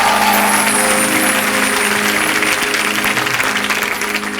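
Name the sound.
audience applause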